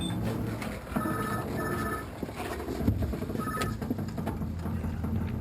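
A telephone rings inside a phone box in bursts of bright trilling bell tones, fairly clear over a busy, noisy outdoor background.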